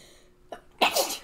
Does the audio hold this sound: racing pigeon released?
no